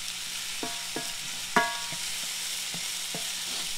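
Onions and carrots cook in butter in a pan with a steady, low sizzle, broken by a handful of sharp utensil clinks and scrapes spaced a second or so apart.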